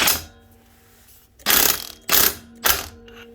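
Puller removing a part from a Polaris Ranger 570 EFI gearbox: three loud, sharp ratcheting clacks in quick sequence close by, after a brief initial click, with quiet workshop hum between them.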